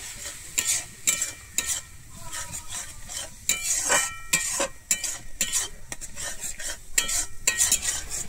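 A spice paste with water is stirred and sautéed in a pan for a Bengali egg and potato curry, making a soft sizzle under repeated metal spoon scrapes and clinks against the pan, with no talking.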